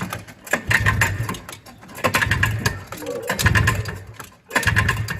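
Vintage Jag snowmobile engine cranking with the throttle held, three loud rhythmic pulsing bursts of churning turnover close by, separated by short pauses, with a voice briefly mixed in.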